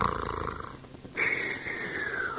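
A snore performed in a children's story, a big furry creature dozing on a cushiony cloud, heard as two drawn-out wheezing, rasping breaths, the second louder with a whistling edge; the sound seems voiced by a narrator imitating it.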